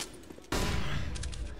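A wall bang burst of gunfire in Counter-Strike at a BLAST Istanbul 2018 match, a sudden loud blast of rapid shots cutting in after a quieter lead-in and sustaining to the end.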